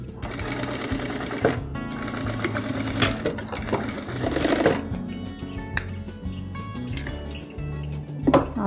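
A sewing machine stitches velour fabric with a steady, close mechanical whir that runs nearly the whole time, pausing briefly once or twice.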